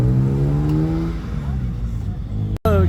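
A BMW M5 with a V10 engine drives past at a car meet, its loud harmonic engine note rising and then falling away, with a sharp cut-off near the end and another engine entering afterward.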